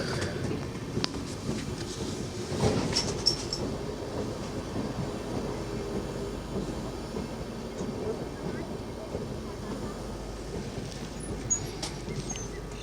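The Dibrugarh Rajdhani Express pulls into Bareilly Junction with a steady low rumble of rolling coaches and occasional clanks, heard from close by while voices murmur faintly in the background.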